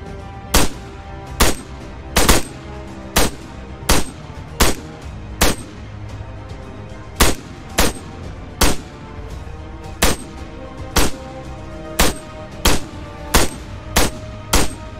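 Gunfire in the Arma 3 game on the Stratis map: sharp single shots cracking at a steady, spaced rhythm over a constant background hum, loud and close.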